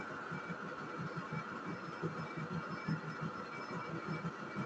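Lathe running at 300 rpm while machining an MUVP-9 pin coupling: a steady, moderate mechanical hum with a soft rhythmic churning underneath, unbroken throughout and free of voices.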